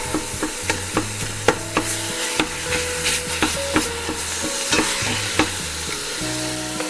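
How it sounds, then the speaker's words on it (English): Ground beef being broken up and browned in a pot for homemade beef vegetable soup: steady sizzling under repeated sharp scraping and tapping strokes of a utensil against the pot, close and fairly loud, no talking. "Just breaking up the meat."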